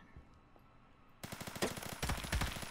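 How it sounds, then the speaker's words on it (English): Video game gunfire from an Obrez sawn-off rifle and a Honey Badger rifle in a 1v1 match: after a quiet second, a sudden loud, close, rapid rattle of shots bursts in and continues to the end. "I hit you with the Obrez for the first shot and then 3 more bullets with the Honey Badger"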